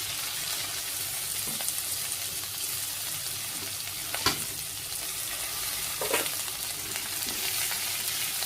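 Sliced jackfruit seeds and split green chillies fry in a pan with a loud, continuous sizzle, broken by a few scraping knocks of a spoon as the mixture is stirred, close up and without talk.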